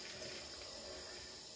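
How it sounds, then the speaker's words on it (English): Water pours steadily from a can onto a potted bear paw succulent indoors, a soft continuous trickle and splash held at a low, even level. "water this bear paw"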